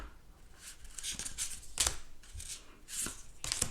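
Tarot cards from The Unfolding Path deck by Athene Noctua being shuffled by hand, a close run of crisp riffling and flicking bursts repeating every half second or so, with no talk over them.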